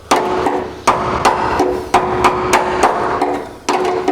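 Hammer blows knocking seam sealer off a VW Beetle body, about nine loud, sharp metallic strikes in an uneven rhythm, close up with no talking.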